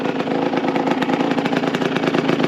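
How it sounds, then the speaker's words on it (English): A two-stroke motorcycle engine idles steadily up close, with a fast, burbling pulse and no voices. "choke's off, bike is idling"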